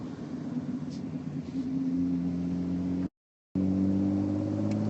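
On board a Jaguar D-Type race car, its engine drones loud and steady with a deep rumbling hum that cuts out briefly to silence, then resumes just as strong.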